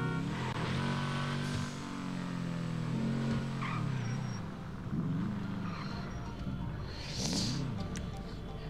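Car engine revving in GTA 5 Online, Benny's Original Motor Works customised car, with rising and falling throttle sweeps over steady engine drone and game background noise, moderately loud throughout.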